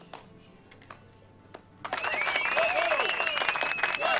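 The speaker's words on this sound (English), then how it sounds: "One guy starts clapping and everybody." Crowd applause breaks out at a performance in The Witcher 3, starting abruptly after a quiet stretch with faint scattered sounds and then holding as a steady, fairly loud wash of clapping to the end.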